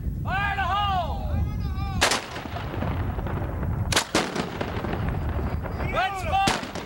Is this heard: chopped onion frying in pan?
no